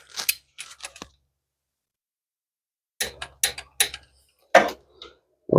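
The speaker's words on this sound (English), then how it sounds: "we're going to go ahead and torque this to 18 foot-pounds" Torque wrench ratcheting as a fastener is tightened to 18 foot-pounds during timing belt and water pump work on a 2013-2016 Dodge Dart with the Fiat 1.4L turbo engine; sharp clicking bursts come in two groups split by a pause.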